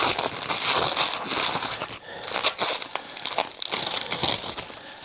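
Plastic packaging being unwrapped from a mini split line set, continuous crinkling and tearing with irregular crackles, close and fairly loud, with no talking.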